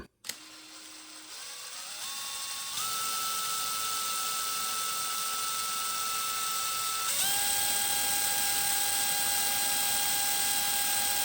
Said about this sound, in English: I'm going to drill it out a little